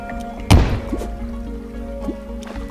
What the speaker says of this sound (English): we just want to throw some normal bombs down this way and get this one.